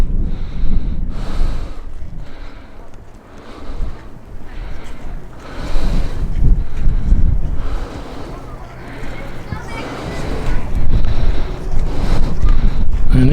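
Winter wind at ice-covered Lake Sevan blasts straight into a camera microphone, making loud rumbling buffeting gusts that rise and fall over a quarter-minute, with a voice talking faintly at moments.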